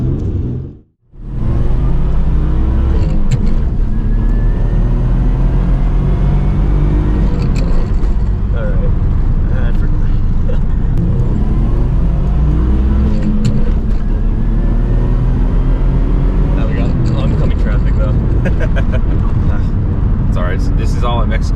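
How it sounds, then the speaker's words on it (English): A 1992 Mitsubishi 3000GT VR4 twin-turbo engine idles steadily with its characteristic lifter tick under a continuous low rumble, loud and close, while people talk over it throughout. "the only thing that's loud about this car is the lifter tick"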